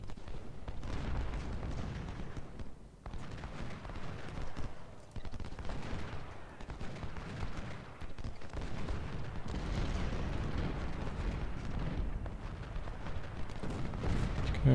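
Civil War battle in Ultimate General: a continuous, moderately loud rumble of distant artillery and massed gunfire, with repeated booming swells and dips throughout.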